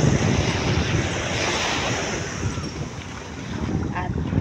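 Strong surf breaking at a beach in Tanza, Cavite, a continuous loud rushing roar with wind buffeting the microphone.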